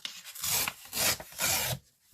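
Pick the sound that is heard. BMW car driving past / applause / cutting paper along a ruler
cutting paper along a ruler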